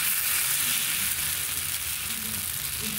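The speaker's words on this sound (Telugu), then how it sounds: "ఇప్పుడు నార్మల్ దోశ వేసుకుందామండి" A spicy Kadapa-style karam dosa cooking on a hot griddle with a little oil, giving a continuous even sizzle and hiss at close range with no voices.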